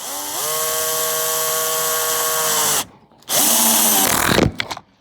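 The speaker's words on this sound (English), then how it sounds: "This is my Bosch 12 volt driver with the 1/4 inch quick coupler." A Bosch 12-volt driver with a 1/4-inch quick coupler whirs loudly and close, a steady motor whine for nearly three seconds, a brief pause, then a second run that ends in a few short stuttering bursts.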